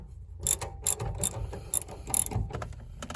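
Socket wrench with an 8mm socket ratcheting on bolts during a Nissan 370Z fuel pump replacement, a series of sharp clicking bursts repeating in uneven bursts, close and fairly loud.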